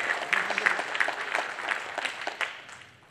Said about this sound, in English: Clap for the second one.